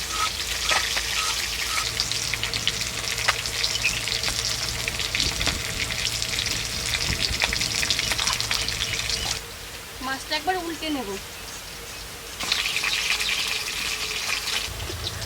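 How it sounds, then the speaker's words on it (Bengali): Fish frying in mustard oil in a village kitchen wok, a steady loud sizzle and crackle with occasional stirring, pausing briefly as the fish is turned, then resuming; someone speaks briefly over it. "মাছ ভাজা হয়ে গেছে এবার নামিয়ে নিচ্ছি মাছটা একটু কড়া করেই ভেজেছি"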